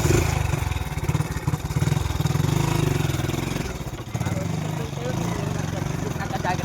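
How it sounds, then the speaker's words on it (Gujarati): A small motor engine runs continuously nearby with a steady, slightly uneven putter, while people talk over it. "ચાલુ જ છે મોટર જો"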